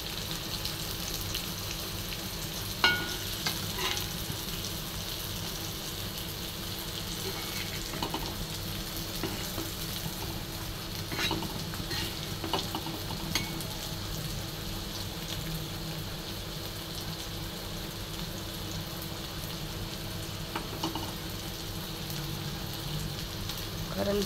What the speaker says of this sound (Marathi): बघा आपलं कसं कारलं फ्राय झालं.